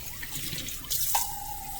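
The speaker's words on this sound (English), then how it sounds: "I'm going to pour all of this water over it." Water from a kitchen sink is poured over vegetables in a strainer, heard as a close splashing gush with a brief surge, then a fading trickle and drip, no voices.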